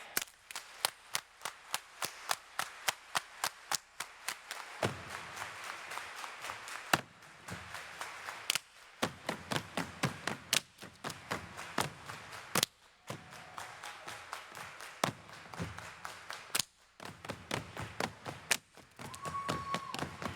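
A crowd at a homecoming celebration claps along to a song in regular sharp beats, the claps landing in a steady rhythm over a continuous music bed with brief dropouts.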